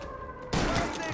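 Sudden burst of dense gunfire from a Mafia video game shootout with police, erupting loud after a quieter stretch and continuing as a sustained volley, with voices mixed in.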